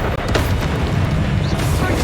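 Incendio fire spell cast in the video game Hogwarts Legacy, a dense, loud burst of roaring whoosh lasting about two seconds, with a voice over the blast.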